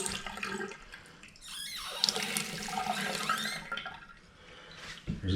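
Water running from a sink tap in a run-down mobile home, a steady close splashing flow into the basin that swells and eases over a few seconds, with no talking.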